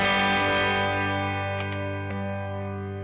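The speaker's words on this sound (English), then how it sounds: "Delay on." A sustained distorted guitar chord rings out loud and steady, with repeating echoes trailing behind it as it slowly decays.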